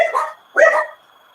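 Two sharp dog barks ring out close and loud, about half a second apart, with no talk.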